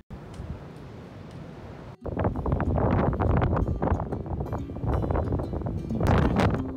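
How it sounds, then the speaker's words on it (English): Strong coastal wind on a clifftop path between Westward Ho! and Tintagel rushes and buffets the microphone in loud, uneven gusts, growing rougher after a brief dip partway through. "Windy."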